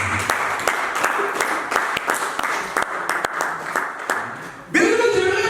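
A church congregation applauding and cheering for Jesus, scattered claps over a crowd din that swell into fuller clapping near the end.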